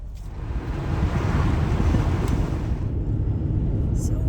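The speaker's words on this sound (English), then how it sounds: "You can see it's windy." Strong wind roars and buffets the microphone continuously on the Galveston coast, with surf rumbling underneath throughout.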